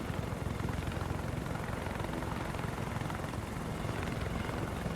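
A Z-9WA helicopter in the combat game War Thunder flies with a constant, fairly quiet rotor thrum and engine drone, steady and unbroken, without any voices.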